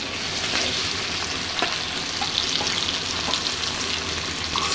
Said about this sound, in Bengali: মশলাটা ভালো মতো ভেজে নিতে হবে।